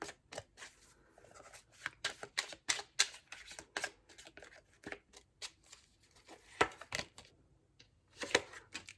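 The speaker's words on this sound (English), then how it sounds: "2 more shuffles" Tarot cards are shuffled by hand in a quiet room, giving close, crisp bursts of riffling and snapping in an irregular rhythm with short pauses between them.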